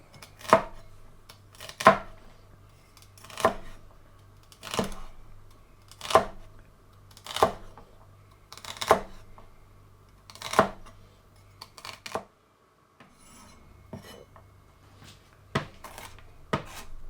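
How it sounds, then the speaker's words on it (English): Celery sticks chopped with a knife on a board for potato soup, about eight evenly spaced sharp chops close by, followed by a few scattered lighter taps after a brief pause. "3 sticks of celery. These are going to be chopped up."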